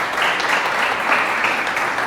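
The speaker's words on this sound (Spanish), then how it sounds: "Denle otro aplauso a Dios por eso." A church congregation applauds in dense, steady clapping close by and fairly loud, sustained without a break across the short moment.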